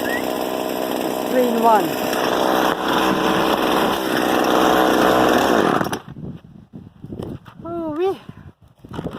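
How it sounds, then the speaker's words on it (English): A small pull-start chainsaw runs loud and steady for about six seconds while someone talks over it, then cuts out, leaving outdoor quiet and more talk at a tree-cutting site. "so that's my chainsaw right there. It's a super chainsaw right there. Nothing fancy, just a pull and throw."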